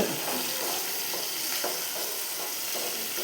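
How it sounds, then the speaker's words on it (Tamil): Onions sauté in a pan until brownish for a garlic gravy, giving a soft, steady sizzle broken by regular stirring strokes every half second or so. "வெங்காயம் சரி பவுனிஷ் கலரில் வர அளவுக்கு நல்லா வதக்கிங்க"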